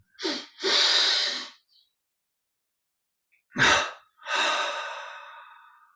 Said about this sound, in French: Expire par la bouche, on relâche complètement.